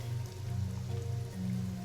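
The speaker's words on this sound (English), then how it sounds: "The rain, it never stops." Steady rain falling in the video game Master Detective Archives: Rain Code, a continuous soft patter with a low hum beneath it, even and unbroken throughout.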